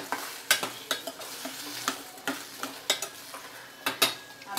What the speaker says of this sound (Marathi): छान परतून घ्यायचं, स्लो फ्लेम ठेवायचे।